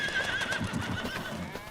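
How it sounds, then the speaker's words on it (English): Horses whinny in a pen on a farm in the Farming Simulator 25 video game, a clear neigh followed by softer hoof clip-clops and ambient farm noise, moderately loud with no talking. "And you just heard them, but over here across the way, you got a couple of horses."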